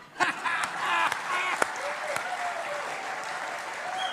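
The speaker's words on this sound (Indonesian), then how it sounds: "Tepuk tangannya tidak ikhlas." An audience at a church gathering applauds, giving a moderate, fairly steady crowd clap with a few sharper individual claps near the start, continuing at a lower level throughout.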